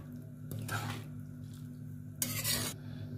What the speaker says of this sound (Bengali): এবার ভালো করে আমি নেড়ে চেড়ে একটু ফুটিয়ে নেব